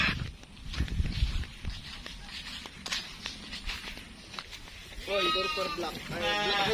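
Sheep on a farm bleat twice near the end in loud, wavering calls, after footsteps and rustling, with people talking nearby.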